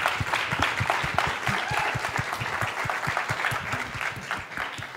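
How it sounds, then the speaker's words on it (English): A crowd at a grand finale awards ceremony claps steadily and densely for third place, a sustained round of applause with no break. "Big round of applause."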